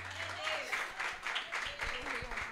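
A church congregation at a worship service applauds in steady broadband bursts, with voices talking over the clapping throughout.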